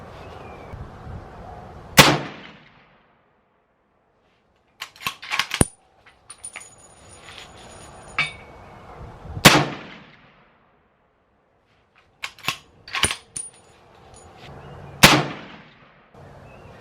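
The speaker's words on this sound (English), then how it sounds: "So I'm actually going to shoot at a different target." Three sharp, loud rifle shots from a Ruger 300 Win Mag fired at a target, spaced several seconds apart, each with a booming decay, between clicks and clatter of handling the rifle.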